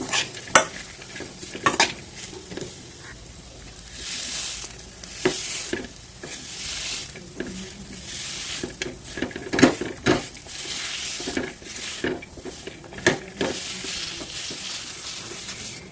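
Dates and cashews being stirred in a warm pan for laddu, with a soft sizzle beneath repeated scraping and knocking strokes of a spoon, close up and at an irregular pace.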